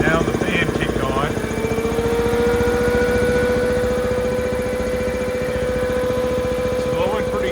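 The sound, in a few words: cooling fan on Ingersoll Rand 7.5 HP air compressor kicking on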